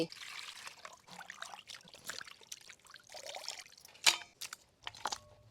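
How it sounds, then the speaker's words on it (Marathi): Water splashes and trickles as mutton is swished and rinsed by hand in a bowl, with some sharp clinks and drips. "आता एक पाण्याने धुतले आता दुसऱ्या पाण्याने धुते"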